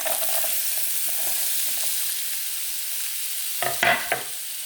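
Onions frying in an old, faded clay pan, a steady soft hiss with a few brief scraping stirs near the end, close by and without talk.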